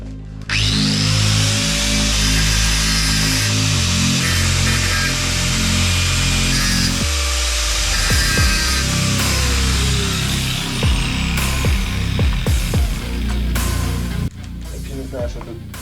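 A loud, continuous angle grinder whine grinding against metal, with shifting pitch and a sharp drop midway, running steadily for the whole stretch.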